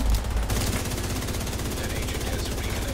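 Rapid automatic gunfire from The Division 2, a loud, dense burst of sustained shots crackling continuously from start to finish with no talk over it.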